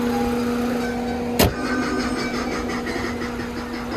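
A white 2018 Chevrolet Spark with a propane gas system idles steadily at close range, a droning hum broken by one brief sharp knock or click about a third of the way in.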